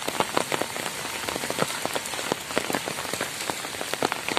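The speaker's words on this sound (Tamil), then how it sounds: "வேலூர் மாவட்டத்தில் ரொம்ப மழை." Heavy rain pours onto streets in Vellore district, a loud, dense and unbroken patter of drops hitting the ground close by, with no voices.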